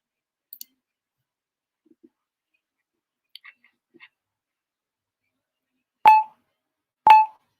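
Two short, sharp electronic beeps from a website, about a second apart, loud and alone after a quiet stretch with only a few faint clicks before them.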